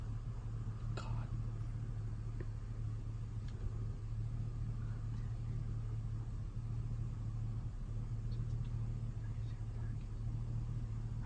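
A car engine rumbles low and steady from inside the moving car, a constant droning hum with faint scattered clicks and no talking.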